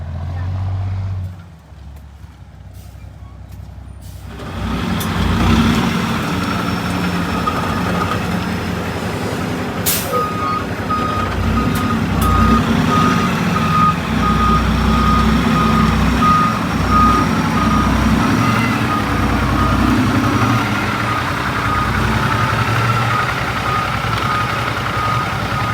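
A dump truck at a Tennessee acreage driveway job, its engine rumbling loudly while a reversing alarm beeps steadily for over twenty seconds after a quieter start, with some voices faintly mixed in.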